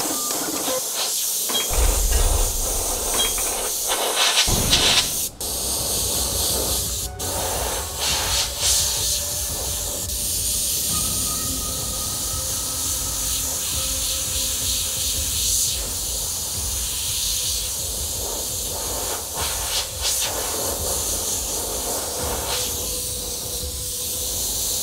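An airbrush sprays paint in a steady, loud hiss while fire flames are painted partly freehand and partly with a template, with a few short bursts near the start and then a long continuous spray, no talking.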